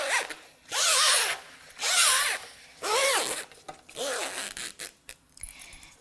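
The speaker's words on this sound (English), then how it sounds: "So you'll slide your zipper all the way down." A metal zipper pull is slid along a length of zipper tape sold by the yard, three loud rasping strokes in quick succession followed by quieter, shorter scratchy zips near the end.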